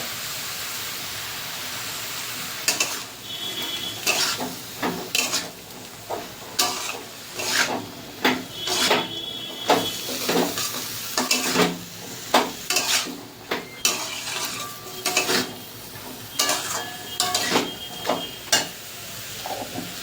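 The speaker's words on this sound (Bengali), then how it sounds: "দিয়ে দেবো ধুয়ে রাখা বরবটি, একসঙ্গে বরবটিটাও ভাজা হয়ে যাবে।" Yardlong beans frying in a pan with shrimp and grated coconut, heard as repeated scraping stir strokes of a utensil against the pan over a low continuous sizzle, close and fairly loud.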